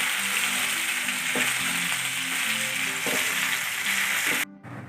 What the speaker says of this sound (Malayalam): അപ്പം നമ്മുടെ തിലോപ്പിയ മീൻ്റെ ഫ്രൈ ശരിയായിട്ടുണ്ട്.